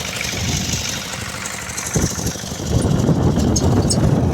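A walk-behind tractor engine runs steadily at close range, a loud rough chugging idle that rises slightly in intensity toward the end.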